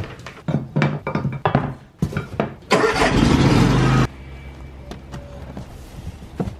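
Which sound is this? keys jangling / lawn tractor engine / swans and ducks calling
lawn tractor engine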